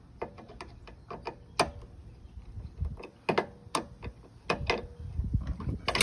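Screws are backed out of a Pentair iS4 spa-side controller cover, a run of close, irregular ratcheting clicks and small metallic ticks from the screwdriver at moderate level, with no talk.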